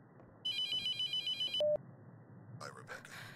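A telephone rings in The Mortuary Assistant horror game: a loud, bright electronic trill pulses in rapid bursts for just over a second, then a single short tone follows before quieter rustling sounds.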